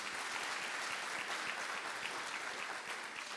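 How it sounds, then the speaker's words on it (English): A conference audience at a fiesta event applauds a conjunto band, a steady wash of clapping that stays even and fairly distant for a few seconds. "How about another round of applause for our conjunto here?"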